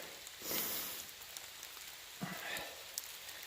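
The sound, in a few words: rain falling on the Appalachian Trail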